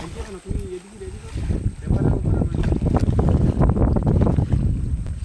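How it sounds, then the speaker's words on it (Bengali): Strong stormy wind sweeps over a fishing boat on the Garal river, roaring and buffeting against the microphone in heavy, continuous low gusts after a brief calmer moment. "মানে এত হাওয়া দিচ্ছে, নৌকার উপর পেপার পাতা হয়েছে, সেই পেপারও পর্যন্ত উড়িয়ে নিয়ে কিন্তু চলে যাচ্ছে।"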